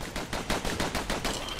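Dual dueling pistols fire in quick rapid succession in Bastion, a loud continuous rattle of closely spaced shots.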